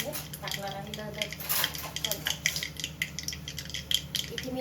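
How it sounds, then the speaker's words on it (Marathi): Wet masala paste of garlic and ginger going into a pan for egg curry: clattering spoon-on-pan scrapes and taps over a low sizzle, close and busy throughout. "आता त्यामध्ये टाकून घेणार आहे मी ओला मसाला."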